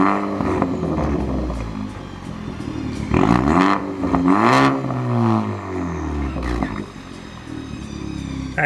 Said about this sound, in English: we did the muffler delete and the resonator delete. And honestly, I like how it sounds. It's actually it's pretty loud.